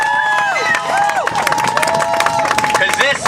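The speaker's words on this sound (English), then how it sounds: "I want to have a round of applause for the parents and the children that came out today" Crowd at an outdoor rally in Rhode Island claps and cheers steadily, with voices shouting over the dense, continuous applause.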